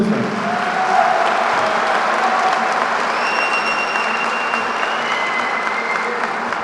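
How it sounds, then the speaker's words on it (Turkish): A crowd at a Beşiktaş supporters' association charity event applauds steadily for several seconds, a continuous dense clapping with faint whistles or cheers on top. "Bir alkışla onları alabilir miyiz?"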